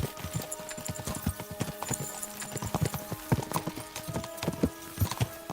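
Horse hooves clip-clop in a rapid gallop rhythm with a brief whinny, in the medieval video game Kingdom Come Deliverance 2, set against a steady game music bed.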